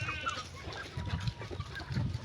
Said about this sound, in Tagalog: Yun na yung aming mga manok. Naghihintay na sila.